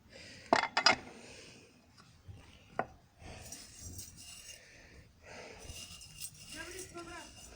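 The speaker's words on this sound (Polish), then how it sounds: "Na dno sypię zrębki z czereśni, olchy, jabłoni." Cherry, alder and apple wood chips poured into the bottom of an old pot for home smoking, a few sharp rattling clatters followed by softer rustling and scraping, with a voice talking in between.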